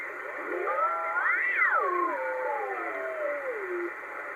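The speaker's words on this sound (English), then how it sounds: "it sounds like there's a few people operating on upper sideband here as well." Warbling, pitch-shifting voices from upper sideband CB radio transmissions, gliding up then down in a garbled, whistling way over a steady hiss.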